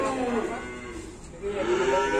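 Cattle low at a cattle dealer's yard, a near, drawn-out moo followed after a short dip by another rising call.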